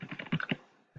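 Rapid keystrokes on a computer keyboard patter in a quick, uneven run of about half a dozen close taps, then a brief pause and one more tap.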